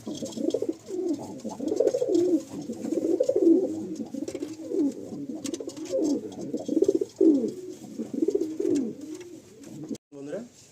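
Domestic pigeons in a loft coo in deep repeated throaty rolls, several birds overlapping close by, with faint talk in the background.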